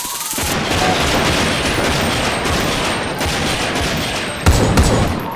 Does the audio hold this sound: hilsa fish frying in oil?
no